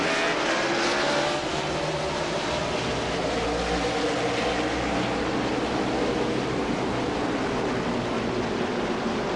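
A pack of stock cars from the 2005 NBS Kroger 250 roar into turn one on an oval in a loud, sustained engine drone, with overlapping engine notes rising and falling as the cars race close together.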